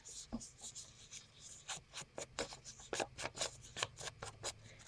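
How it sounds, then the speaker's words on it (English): Ink being dabbed and rubbed around torn paper edges for a Christmas card craft, a run of short, dry, close scuffing strokes in an uneven rhythm, quiet and with no talk over them. "I'm just going to do a little inking around that"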